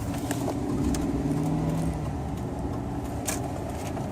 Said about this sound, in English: Notice there's pretty significant traffic.